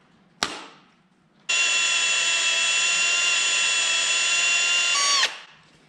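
A sharp center-punch tap, then a loud, steady high-pitched power drill whine drilling into a BMW M52 engine block runs for about four seconds before spinning down and stopping.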